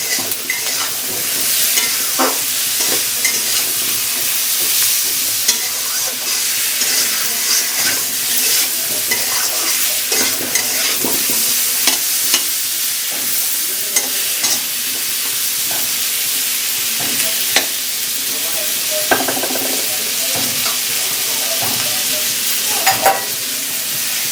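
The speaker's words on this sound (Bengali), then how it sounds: "দেখতেই পাচ্ছেন এখানটা আলুটা কষানো শুরু হয়ে গেছে" Potatoes stir-fried with turmeric in an oiled pan for a fish and potato curry, a steady close sizzle broken by repeated scraping and clinking strokes of a spatula, with no talking.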